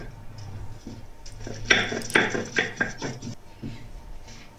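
Spice paste is ground by hand on a flat grinding stone, giving a run of rhythmic scraping, rubbing strokes in the middle, with quieter handling before and after.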